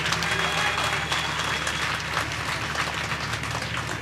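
Audience at an All India Mushaira poetry gathering in Lucknow breaks into sustained, loud applause, a thick continuous wash of clapping with a low steady hum underneath and no speech.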